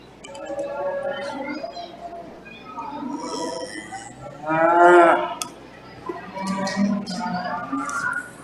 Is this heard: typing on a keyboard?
no